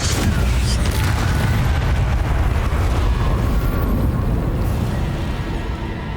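Fiery Incendio spell blast in Hogwarts Legacy, a loud, dense roaring burst of flame and rumble that sustains for several seconds without pause.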